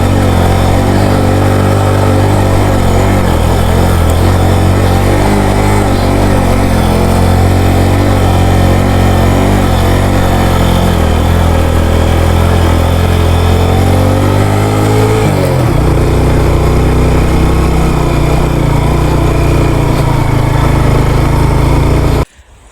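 Off-road motorcycles grinding up a steep climb near Khuzdar, a loud, continuous engine drone with straining revs held for about fifteen seconds, then the pitch drops and settles into a steadier lower rumble until the engines cut off abruptly.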